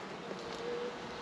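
Honeybees hum steadily around their hive, a continuous close, even drone with a faint higher whine passing through, no voices.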